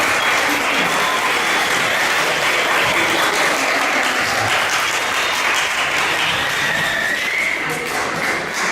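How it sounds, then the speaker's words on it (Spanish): Sustained audience applause at a recognition ceremony during a talk on aging, a steady loud patter of many hands with a few nearby taps and thumps mixed in. "Bien, les voy a dar su reconocimiento y les voy a pedir por favor que les demos un aplauso en Laura Areza."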